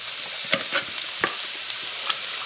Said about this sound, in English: So basically we're going to put the onion in.